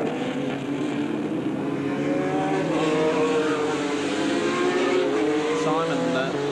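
A Formula Holden open-wheel race car at Mallala in 1990 sweeps past with a steady, loud engine note rising and shifting in pitch, a commentator talking over it throughout.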